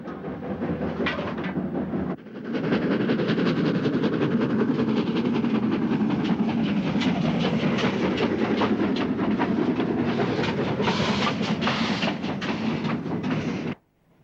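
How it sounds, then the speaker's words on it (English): An LNER Beyer Garratt steam locomotive, number 2395, is heard on old archive film. The sound is a loud, continuous rolling rumble with rapid rhythmic clatter that runs for most of the clip, then cuts off abruptly. "Britain did, however, have an equally large Bayer Garrett, LNER number 2395, seen here in a rare film clip."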